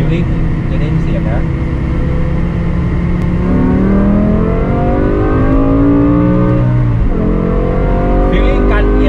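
A 500-horsepower BMW M5 E60 sedan with its V10 engine revs hard through the gears on a straight, the loud engine note climbing and dropping with each shift while someone talks over it from inside the cabin.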